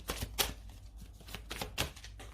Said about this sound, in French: Je vais peut-être remettre une carte dessus